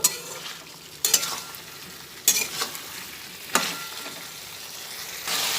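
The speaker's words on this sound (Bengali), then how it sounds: "আবার একটু ভালোভাবে নেড়ে চেড়ে নিচ্ছি একটু কষিয়ে নেব" Fried potatoes being stir-fried in a pan for a potato and pointed gourd curry: a continuous close sizzle broken by a few distinct scraping strokes of a spatula, with no voices.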